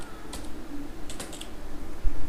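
Password typed on a computer keyboard, a few quick bursts of close, crisp key clicks with short pauses between them.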